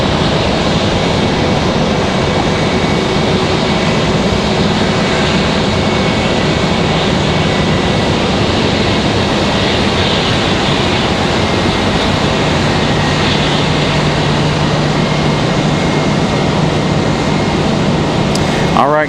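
A United airliner departs from Raleigh-Durham International Airport, heard as a steady, loud, broadband engine roar that stays even throughout.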